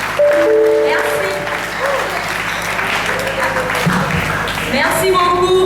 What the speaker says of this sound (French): On applaudit fortement pour monsieur Samba